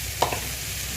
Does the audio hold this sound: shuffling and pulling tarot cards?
no